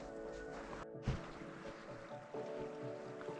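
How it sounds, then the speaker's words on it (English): A small meltwater waterfall trickles from beneath a melting ice patch in snowy Yosemite National Park, a faint, steady rush of flowing water with a brief louder bump near the start. "there's a little baby waterfall flowing down underneath it from it melting away"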